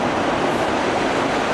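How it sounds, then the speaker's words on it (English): A CSX freight train passing close by, a loud continuous rumble and roar of rolling cars with no break across the short stretch. "here's more of that CSX freight"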